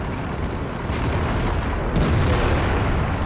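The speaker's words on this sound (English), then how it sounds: "artillery just took out that WZ111" Artillery shells land in World of Tanks: a continuous deep, rumbling blast texture that swells slightly toward the end, loud and broadband with no speech.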